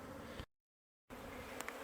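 Honey bees buzz in a winter hive opened after its top blew off, a dense close droning hum that cuts out completely for a moment before resuming just as strongly.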